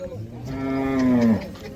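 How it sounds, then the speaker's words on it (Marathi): A single long, loud moo from a Khillar bull at a bull market rises and sustains for about a second nearby, then trails off into quiet outdoor background. "गावरान खिलार बैल जोडे"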